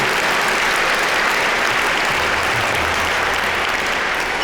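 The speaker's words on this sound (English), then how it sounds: "Let's give him a big round of applause, Terry Lundgren." Audience applause at the Deming Cup event, a dense, even wash of clapping from a large crowd that holds steady and loud throughout with no voices over it.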